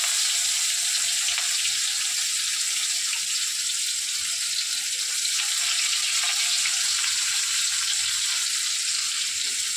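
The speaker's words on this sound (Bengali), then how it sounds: "এবারে তেলের মধ্যে পেঁয়াজ কুচিটা দিয়ে দেবো" Chopped onion sizzles in a small amount of hot oil left from frying fish, giving a constant bright crackling hiss that stays even and close throughout with no talking.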